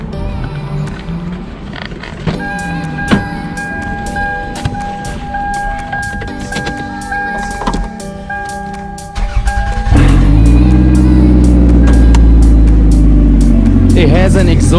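A car engine with an exhaust leak idles loudly with a rough, puffing exhaust note, then the sound swells into a deep, steady roar.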